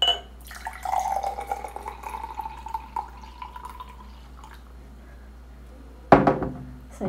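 A detox drink pours into a glass with a steady, rising liquid trickle that fades away. A sharp glassy clink follows a few seconds later, close and with no talking.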